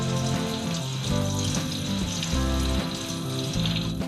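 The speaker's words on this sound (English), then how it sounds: "So now we'll wash these leaves well 3 to 4 times." Moringa leaves are being rinsed in water, giving a constant close sloshing and splashing over a background of tonal music, with no voices.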